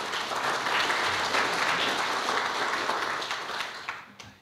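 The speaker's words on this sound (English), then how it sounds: "You led that clap, didn't you?" Luncheon audience at an annual results event bursting into sustained applause, dense and close, then tapering off near the end.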